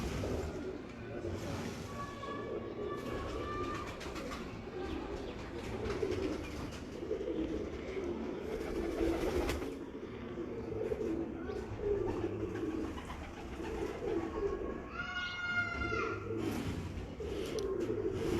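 Breeder pigeons from Kasur cooing throughout, repeated soft throaty coos at close range over a steady background murmur, with occasional higher chirps and someone talking intermittently.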